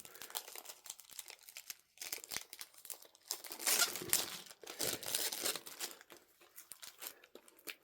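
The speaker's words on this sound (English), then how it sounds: "So we'll take off the label, the cellophane, sorry." Cellophane wrapping crinkles and tears as it is peeled off a Criterion disc case, a run of close, quiet crackling and crumpling bursts with short pauses, louder in the middle.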